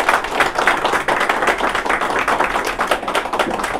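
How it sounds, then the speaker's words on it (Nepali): Sustained applause from an audience at a Nepali direct-selling company event, dense steady clapping running throughout without pause. "एकपटक हाम्रो नेपाल सरकारलाई जोरदार तालीले स्वागत गरौँ"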